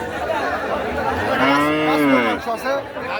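Large cow mooing at a busy cattle market, a long drawn-out low moo rising and falling close by over a background of crowd chatter.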